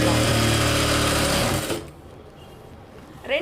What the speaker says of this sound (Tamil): இப்போ அரை இன்ச் அகலத்தில் தையல் போட்டுக்கலாம்.